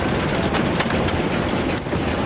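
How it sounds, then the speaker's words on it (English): A 1926 Babcock and Wilcox 12-ton steam road roller moving along the side of an arena at a steam traction event, giving a dense, steady mechanical rumble and clatter at close range with no pauses. "12-ton road roller built in 1926, just making its way along the lower side of the arena."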